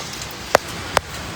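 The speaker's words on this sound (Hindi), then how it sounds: "शदीद बारिश जो है, बहुत तेज़ बारिश" Heavy torrential rain falls on a street in DHA Lahore, a steady broadband hiss of downpour broken by two sharp, brief splashes or drips close by.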